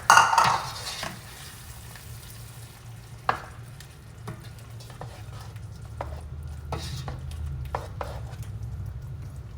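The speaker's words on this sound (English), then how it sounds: "I'm gonna give that a good stir." Homemade chipotle sauce is stirred into shrimp in a frying pan: a steady sizzle runs under repeated close scraping strokes of a utensil against the pan.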